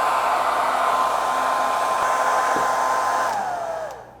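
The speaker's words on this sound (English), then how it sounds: "let's get that blow dryer" A hair dryer blows steadily at close range with a constant whooshing hum, then powers down and winds off near the end.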